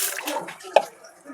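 Water poured over rice and lentils left to soak, a short splashing pour with a brief sharp splash in the middle, close and fairly soft.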